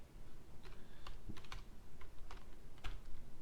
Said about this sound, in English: I'm just going to go ahead and type it in